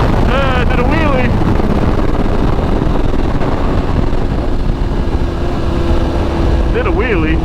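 BMW S1000RR sport bike engine pulling hard through a power wheelie, a loud steady roar buried in heavy wind rush, with rising revs at the start and again near the end.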